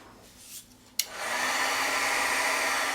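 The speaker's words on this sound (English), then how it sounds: "I'm going to go ahead and zap this with my heat tool so it's completely dry" An embossing heat tool clicks on and then blows a steady, breathy hiss of hot air while drying a distressed paper banner, constant and close after the switch.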